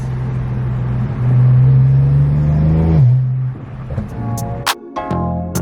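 A BMW 5.0 engine with a DCT gearbox revs up with a rising, roaring pitch, then drops back and idles with a few sharp pops and crackles.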